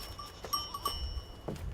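Goats grazing on farm land bleat softly over a low rumble, with scattered faint calls and a thin tonal ringing like a bell, and no talking.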